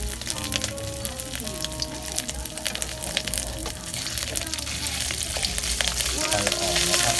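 Curry paste stir-fried in a hot pan, loud continuous sizzling and crackling with scraping and clattering of a spatula throughout, busy and close.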